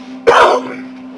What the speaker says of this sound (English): Excuse my cough a little bit.